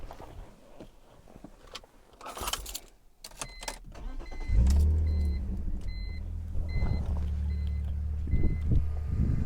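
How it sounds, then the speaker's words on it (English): BMW E46 on a driveway: a key click and jangle, then the engine cranks and catches, settling into a steady, even idle close to the microphone, with no one speaking. "The next thing you're going to want to do is start the car."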